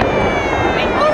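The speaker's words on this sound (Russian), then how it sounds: "Говорили, что между залпом еще будет фейерверк запускать." A Victory Day fireworks salute over Moscow, heard as a dense, continuous crackling roar of bursts from a crowd's vantage point, loud throughout the brief moment.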